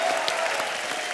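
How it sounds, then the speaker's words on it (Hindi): A studio audience at a comedy talk show claps loudly in a dense, steady burst of applause, with no speech over it. "एक बार जोरदार ताली भिड़ो लोग"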